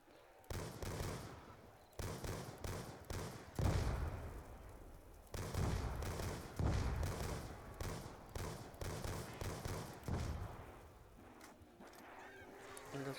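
FN FAL rifle fire in a video game on a farm map: repeated loud bursts and single shots in quick clusters, close and dominant, with brief pauses between volleys.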